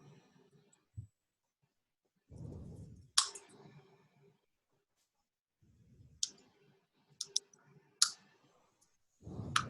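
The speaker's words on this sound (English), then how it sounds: "So now I did some typing and I saved it." Keyboard keys tapped in short bursts with sharper isolated clicks between, close and fairly quiet, with silent gaps in a quiet room.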